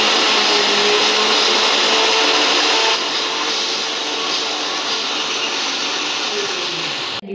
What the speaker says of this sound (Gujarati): હવે આપણે આને પીસી લેવાનું છે